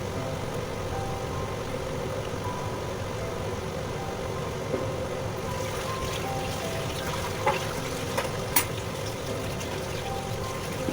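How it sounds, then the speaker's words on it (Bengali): Cabbage pakoras deep-frying in oil over a low flame, a steady, hissing bubble that runs the whole time, with a few faint clicks of a utensil in the second half and no talk. "লো ফ্লেমে দিয়ে বড়াগুলো ভেজে তুলে নেব।"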